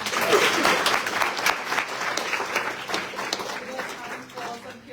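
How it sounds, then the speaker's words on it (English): An audience at a property-ownership panel event applauds the panelists, a dense, steady wash of many hands clapping that holds for about five seconds and thins slightly toward the end. "A round of applause for the panelists."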